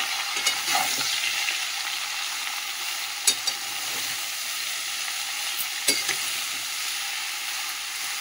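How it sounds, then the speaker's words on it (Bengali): Bottle gourd frying in a pan on top of tempered spices, a steady close sizzle with a couple of sharp stirring clinks. "ফোড়নটা তো ভেজে নিয়েছি, যে ওর মধ্যেই লাউটা কেটে রাখা লাউটা দিয়ে দিলাম।"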